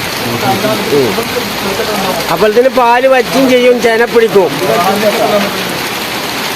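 Steady heavy rain hisses throughout at an outdoor village market while someone talks over it in the foreground.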